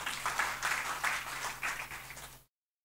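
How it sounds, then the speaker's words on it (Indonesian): A church congregation claps together steadily for a couple of seconds, faint and distant, before the sound cuts off abruptly. "Tepuk tangan buat Tuhan Yesus."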